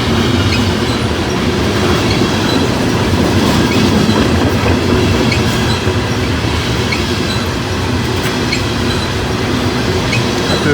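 Train rolling steadily past a farm field at harvest time, a continuous loud rumble with clickety-clack of wheels and a faint squeal, no voices.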